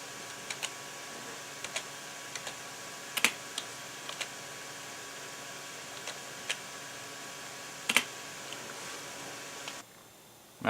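Intermittent typing on a computer keyboard: scattered single key taps and short bursts of clicks, fairly close and quiet over a faint steady hum, with no talk, ending in a brief louder rustle.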